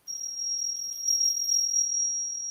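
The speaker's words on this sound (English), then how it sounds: "he makes bells out of coins, and they sound like this" A handmade silver bell made from coins gives a single high, pure ringing tone that sustains steadily and quietly for a couple of seconds without fading much.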